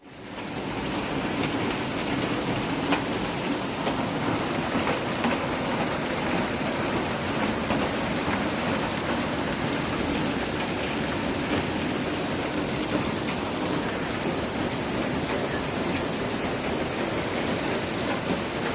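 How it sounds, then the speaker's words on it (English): Heavy rain pours down steadily outside near a house, shop and goat pasture, a dense, loud, continuous hiss with no voices over it. "I knew we were supposed to get rain today. I wasn't expecting this."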